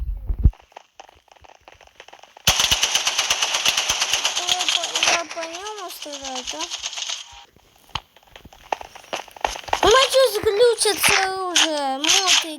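Rapid bursts of gunfire in the video game CraftMaina crackle loudly, with a voice talking and exclaiming over the shots in the second half.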